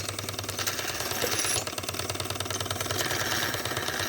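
A Wilesco D409 model showman's steam engine runs steadily up close, with a continuous chugging, vibrating mechanical rumble and a fast knocking pulse throughout, no talk over it.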